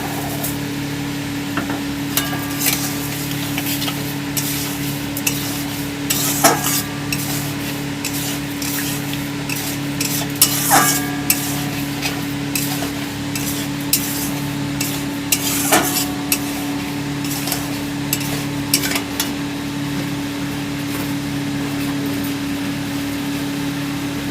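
Amra chutney with sugar is stirred in a pan, repeated scraping strokes and soft bubbling over a steady low hum, with sharper clinks of the spoon at intervals.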